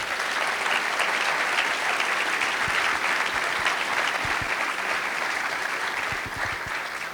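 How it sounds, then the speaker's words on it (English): Audience applause at the closing of RailsConf 2025, sustained even clapping from a large conference crowd lasting several seconds. "please give them a round of applause as well"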